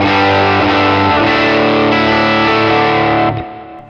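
Electric guitar through a Kemper profile of a 65 Deluxe amp with added mid-range, giving a thick, overdriven chord that rings loud and sustained for over three seconds before decaying, with no voices.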